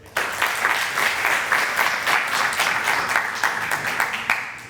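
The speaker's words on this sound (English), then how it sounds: "So please, a round of applause for Peter" An audience at a conference applauds a speaker being introduced, a dense, steady burst of clapping from many hands that fills the room for several seconds before fading.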